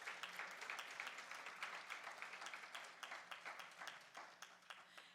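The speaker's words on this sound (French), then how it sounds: "On peut l'applaudir." An audience at a gala awards podium applauds a vice-president called to the stage, distinct claps forming a steady, moderately dense patter that ends in a few scattered final claps, heard quietly.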